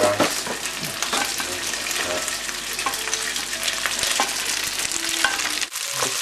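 Rice and raisins fry in a pan, giving a close, steady sizzle with frequent scraping and stirring clatter, a brief dip near the end, and no voices.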